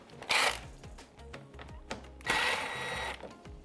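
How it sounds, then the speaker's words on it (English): T20 Torx bit removing a tail light bolt on a Can-Am Maverick X3: two bursts of close power-driver whirring, one short and one longer, separated by small clicks and knocks. "we're gonna start out by removing this tail light bolt. We're gonna be using a T20 Torx bit."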